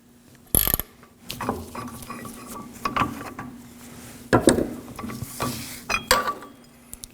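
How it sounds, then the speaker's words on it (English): A new front lower ball joint on a 2013-2019 Nissan Sentra is tightened down with a tool, giving a series of close, intermittent mechanical clicks, ratcheting and clanks with short pauses between them. "Now we can start tightening down."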